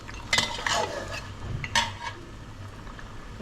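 A metal spoon stirs and scrapes chicken kosha in a cooking pot, with a few sharp clinks against the side followed by softer scraping and faint sizzling.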